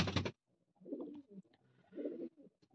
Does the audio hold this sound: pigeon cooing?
yes